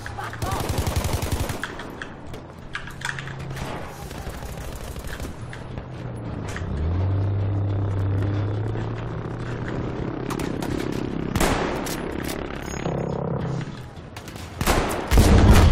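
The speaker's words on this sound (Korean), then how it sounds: "오우, 총소리 장난 아닌데?" Gunfire in Battlefield V during a 64-player Conquest multiplayer match: dense bursts of machine-gun fire and scattered shots, loud and near, over a low rumbling battlefield roar with brief loud blasts toward the end.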